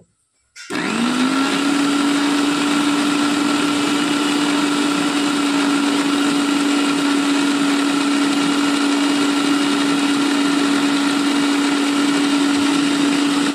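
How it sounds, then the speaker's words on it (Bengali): An electric blender switches on after a brief silence and whirs coriander leaves for pickle in one loud, steady high-pitched drone that runs unbroken to the end. "এটাকে আমি এখন ব্লেন্ড করে নেব।"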